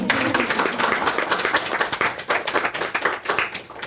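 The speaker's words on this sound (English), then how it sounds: "Can we give them a little round of applause?" A room of people claps for volunteers at an Ayurveda and yoga session on digestion: steady, dense applause that runs throughout, fairly close and moderately loud, with no talking over it.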